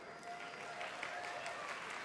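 A BlizzCon 2011 panel audience claps steadily for a couple of seconds, a dense, even patter of applause without any voices standing out.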